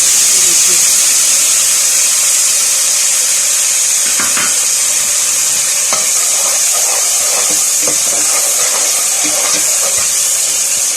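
Chopped onion hits a hot pan of oil while daal maash is being cooked, giving a steady loud sizzle and hiss throughout, with a voice and a few clinks heard faintly over it.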